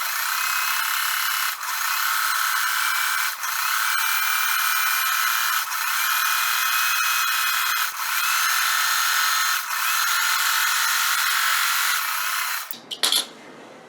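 An electric sewing machine stitches quilt strips with a continuous high whirring hum, briefly dipping at a few points, then stopping abruptly with a short clatter at the end.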